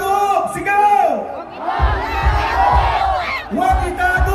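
A big crowd at a justice and transparency rally at Quirino Grandstand shouts a chant together, loud and close, in strong rhythmic bursts of massed voices with brief dips between phrases.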